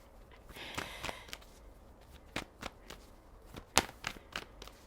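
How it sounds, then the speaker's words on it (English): Tarot cards being shuffled by hand in a few soft riffling bursts with scattered light taps and rustles, quiet and close, with no talking. "Actually, I feel called to shuffle some more."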